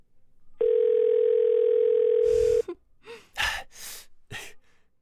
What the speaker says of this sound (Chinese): 我现在就给谭总打电话